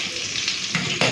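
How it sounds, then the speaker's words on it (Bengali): Salted potatoes fry in a pan while being stirred: a loud, close, continuous sizzle with scraping stir strokes over a short stretch. "আলু ভাজার সময় একটু নুন দিয়ে দিয়েছি, নেড়ে চেড়ে ঢাকা দিয়ে দেবো।"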